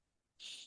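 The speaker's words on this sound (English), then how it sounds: "I can hear the birds outside." A single short, high bird call rings out once from outdoors, faint and clear against near silence, lasting only a moment before fading.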